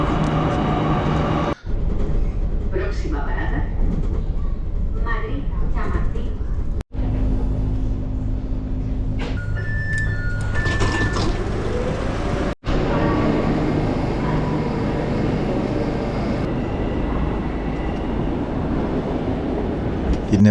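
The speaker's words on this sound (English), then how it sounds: "So this is the train into Madrid." A passenger train runs into Madrid with a steady rumble and clatter of rolling stock, broken by a few abrupt cuts, with faint voices and a brief tonal chime partway through.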